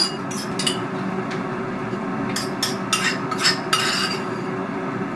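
Nam Jim Jaew sauce being mixed in a bowl brings clusters of light clinks and scrapes of a spoon against the dish over a low steady background hum.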